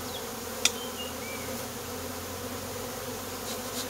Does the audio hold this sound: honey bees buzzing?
yes